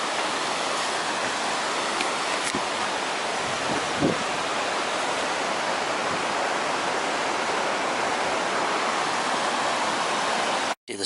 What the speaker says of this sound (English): There's my first sighting of the River Tees, and you can see it's quite a considerable river.